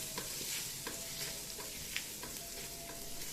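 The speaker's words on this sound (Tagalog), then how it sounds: "Maggisa tayo ng 4 na pirasong bawang." Four cloves of garlic sautéing in a non-stick pan give a steady close sizzle with soft stirring scrapes and small crackles throughout, no voices.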